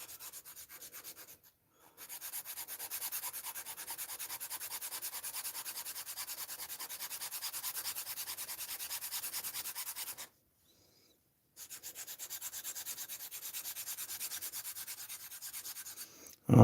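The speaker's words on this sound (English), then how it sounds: "Ah, the wonderful noise of filing plaster." Plaster being filed by hand gives a soft, continuous rasping scrape, close and fairly quiet, running steadily with a short break partway through.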